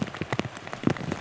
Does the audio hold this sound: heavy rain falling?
yes